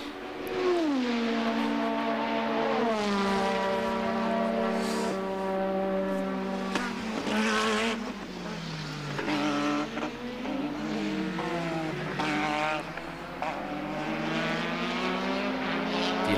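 Formula 1 cars from 1987 race at Hockenheim, with loud, high-pitched engine wails rising and falling as they pass, overlapping whines from several cars throughout.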